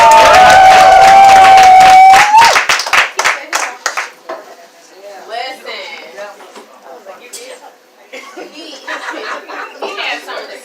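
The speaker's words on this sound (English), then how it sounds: "Make some noise one more time for Khalil" An open mic poetry show audience claps and cheers loudly for the poet Khalil, a brief loud burst that breaks into scattered claps, chuckles and crowd chatter, with someone talking.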